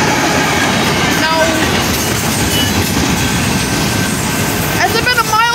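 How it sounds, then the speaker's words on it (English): A long freight train hauled by three engines rolls past on the railroad in a loud, continuous rumble and clatter, with wheel squeals rising near the end and voices faintly underneath. "Oh, yeah, I just this is a long train. 3 engines on 121."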